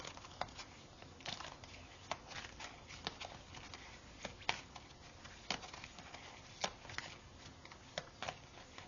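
Oracle cards are shuffled and picked by hand, giving soft, irregular papery flicks and riffles, quiet and close, scattered in short bursts with small gaps between them.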